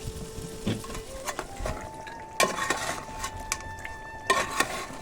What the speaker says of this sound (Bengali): মাংসটা একটু কষিয়ে নিচ্ছে